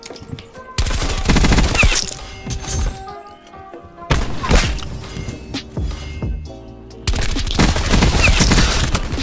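Gunfire in the Black Ops 4 video game, loud bursts of shots and impacts with abrupt cuts between three dense, crackling stretches, no talking.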